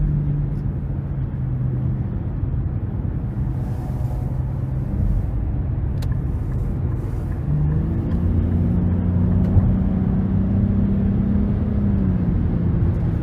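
Turbocharged 3-cylinder engine of a 2023 Nissan Rogue pulling hard under acceleration, a steady low rumble and whir heard from inside the cabin, with a rising engine tone building toward the end and no talk.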